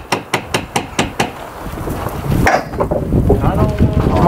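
A hammer drives poly pins into roof timber on a house extension build: six sharp, evenly spaced blows in quick succession, then wind noise and shuffling with fainter knocks and a thud.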